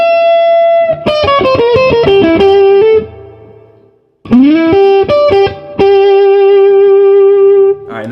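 Electric guitar playing a blues lick over a 12-bar in G, clear sustained bends and vibrato notes in two phrases with a short pause between, close and loud with no talking.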